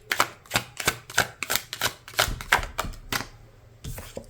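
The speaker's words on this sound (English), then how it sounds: "For some reason I feel like I need to shuffle the deck again for you, so there you go." A tarot card deck is shuffled by hand, producing a rapid series of crisp, close clicks and flutters in irregular bursts that pause briefly near the end.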